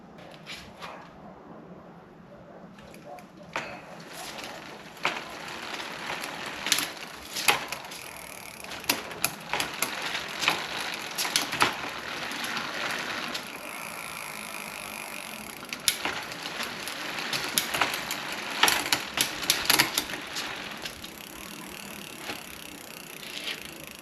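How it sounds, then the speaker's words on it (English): Ratcheting clicks and chain rattle come from shifting through the gears of a Sunseeker trike in a garage, in uneven bursts of mechanical clatter, close and fairly loud, with no talk. "Run through these gears real quick."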